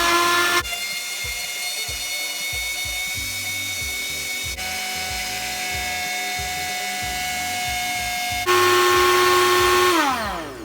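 A blender whirs through oats for syn-free bacon pancakes, a loud steady motor whine with a few shifts in pitch and a rising pulse near the end before spinning down.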